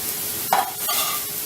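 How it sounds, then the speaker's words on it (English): Hamburger meat browning in a pan, with a soft, steady sizzle and a brief, louder scrape of a spoon stirring it partway through, heard close up with no talking. "And it sounds like my hamburger meat is done."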